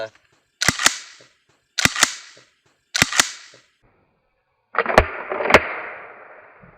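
Unloaded shotgun dry-fired at a range, giving three pairs of sharp metallic clicks with short mechanical rattles, then a fourth, harsher pair of clicks with a brief noisy tail, each burst separated by silence.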